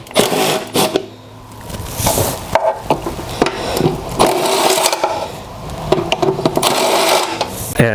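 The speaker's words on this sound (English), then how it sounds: "get these 2 bolts off with my impact with my" An impact wrench with a 3/8 socket removing two bolts from a Toro Recycler self-propelled mower, loud close rattling bursts with short pauses between them.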